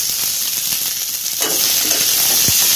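Bajji chilies and tamarind sauté in a pan for chutney, giving a steady, loud hiss and sizzle with faint clinks and stirring scrapes throughout.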